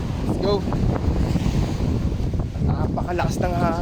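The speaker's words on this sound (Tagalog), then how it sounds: "Napakalakas ng hangin talaga dito." Steady, heavy wind roar buffets the microphone throughout in Pagudpud, Ilocos, with a few brief voices cutting through now and then.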